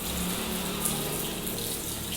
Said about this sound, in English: You have to close the tap when you are brushing your teeth.